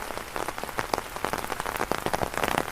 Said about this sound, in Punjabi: ਤੇ ਲਓ ਜੀ ਬਰਸਾਤ ਦੁਬਾਰਾ ਹੋ ਗਈ ਵੀ ਆ ਚਾਲੂ